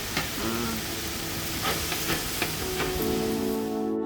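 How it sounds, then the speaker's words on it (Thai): At a Mongolian steakhouse grill, a cook stir-fries food with a steady, close sizzle and hiss, broken by occasional scrapes and clicks of a utensil on the hot surface. "ลุงเขาก็จะผัด ผัดน่าทานมากเลย"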